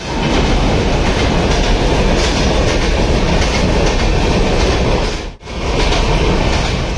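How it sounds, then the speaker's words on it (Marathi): A train rumbles steadily through Vaibhavwadi railway station in the Konkan, a loud continuous roar with rhythmic clickety-clack of wagon wheels, briefly dropping out for a moment before resuming. "वैभववाडी रेल्वे स्थानकात आहे आपण सध्या."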